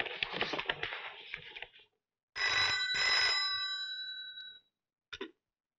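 An old telephone's bell rings indoors in two bursts: a short, quick jangle, then a longer sustained ring, followed by a brief click at the end.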